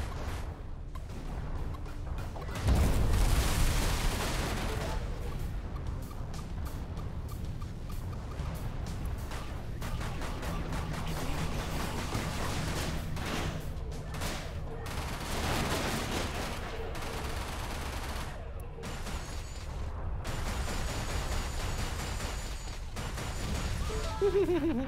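Spaceship gunfire and missiles in Everspace space combat, a dense, continuous barrage of rapid shots and blasts that stays loud throughout, with a heavier burst near the start.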